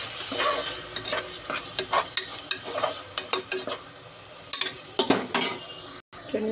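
A utensil stirs tomatoes and salt in a hot pan, giving repeated scraping, clinking strokes in an uneven rhythm over a soft sizzle, close and clear.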